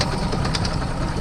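A 50 hp Mercury outboard motor idles roughly with a steady, uneven mid-pitched running sound, close and continuous without talk.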